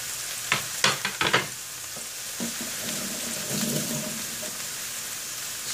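Chopped potatoes tipped into a hot pan, a few sharp thuds and clatters up front giving way to a steady, close hiss of frying oil with no talking.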